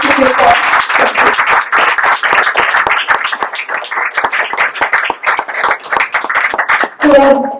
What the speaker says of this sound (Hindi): तो एक बार तालियों से सभी रचनाओं को